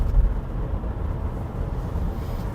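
Interior of a Chevrolet Bolt EV electric car cruising at about 90 km/h, a low steady road and tire rumble with faint wind, quiet and continuous with no motor whine.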